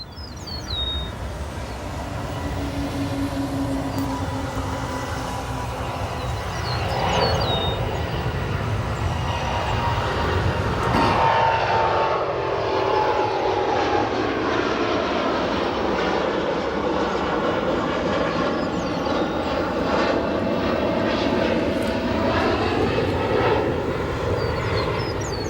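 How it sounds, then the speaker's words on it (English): China Airlines Cargo Boeing 777 departing the center runway at O'Hare: a loud, sustained jet engine roar that swells and shifts in pitch as the aircraft accelerates and climbs away, heard alone for the full stretch. "We also have our China Airlines Cargo 777 departing very, very soon on our center runway here at O'Hare"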